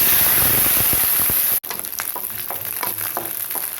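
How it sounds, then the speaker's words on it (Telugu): Green chillies are dropped into hot oil in a pan for tomato chutney, making a loud dense sizzle and spatter that cuts out abruptly, then returns as a softer frying crackle with light stirring. "బాండి పెట్టి ఆయిల్ వేడి చేశానండి. అందులోనే మిర్చి వేస్తాను."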